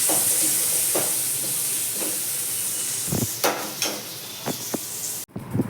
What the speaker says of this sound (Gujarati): બસ જો વઘારે છે મામા સૂકી ભાજી.